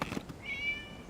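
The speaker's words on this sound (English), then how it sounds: "It was just a cat." A cat in the video game Genshin Impact gives a single short, faint meow over low ambient game background.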